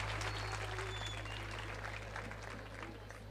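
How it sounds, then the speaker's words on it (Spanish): An audience at a children's coronation gala at a town fair applauds, a fairly faint, even patter of clapping over a steady low hum. "Un fuerte aplauso para esta pareja de guapísimos, Paula y Cristian"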